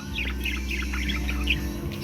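Small caught bird chirping in repeated short bursts through the clip, fairly close, over a steady low indoor hum.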